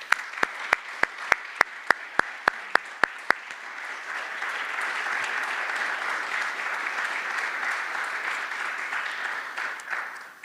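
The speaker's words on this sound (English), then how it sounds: "And let's just give the Czekanski family a round of applause." Applause at a military retirement ceremony begins with a run of sharp, evenly spaced claps, then swells into a steady wash of clapping from the audience that holds for several seconds before tapering off.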